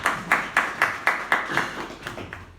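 Audience clapping at a Hindi sales-training talk, heard as a quick run of about ten sharp, evenly spaced claps that come from a small group close by and fade slightly toward the end, with no talking over them.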